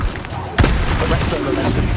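Expelliarmus spell fired in Hogwarts Legacy, a sharp, loud percussive crack about midway, followed by a rumbling tail over steady combat din.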